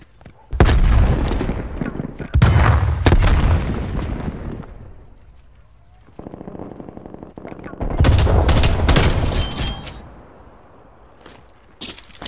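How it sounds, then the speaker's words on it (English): In a military video game, a fragmentation grenade goes off among bursts of automatic gunfire: loud, close, repeated volleys with a sharp blast, a quieter stretch of rapid ticking fire, then another heavy burst of shots. "Throwing grenade."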